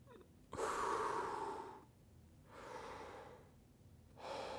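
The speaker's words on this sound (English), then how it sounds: "Breathe in from your mouth." Three deep breaths drawn in through the mouth as singing practice, the first long and strong, followed by two shorter, softer inhalations separated by brief pauses, close and alone.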